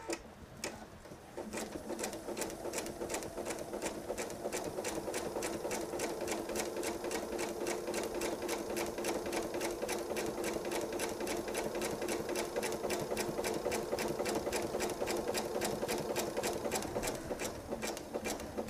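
A sewing machine stitches steadily through the quilted layers of a table runner, a fast even run of needle clatter that continues without pause.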